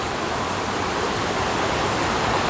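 A waterfall ahead gives off a steady, dense broadband rush of falling water, even and unbroken, with no voices.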